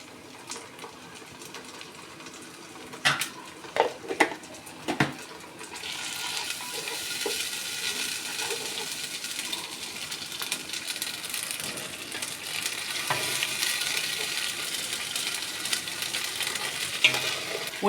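Onions browned in oil with ginger garlic paste added, sizzling and frying in a pan with a few sharp stirring knocks early on, then a steady bright hiss that swells gradually, no talk.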